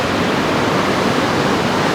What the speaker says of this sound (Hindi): पानी का जो शोर है ना बहुत ज़्यादा है और पानी की रफ्तार भी बहुत ज़्यादा है